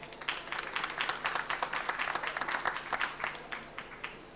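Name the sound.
audience applause for panelists at a conference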